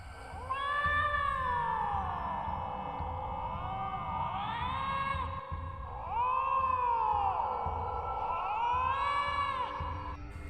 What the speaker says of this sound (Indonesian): Aku mendengar suara kucing memecah keheningan malam itu.